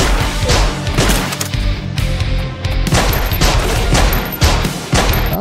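Rapid, continuous gunfire in the zombie shooter Yet Another Zombie Survivors, loud overlapping bursts of shots with sharp impacts, running through the whole stretch without talk.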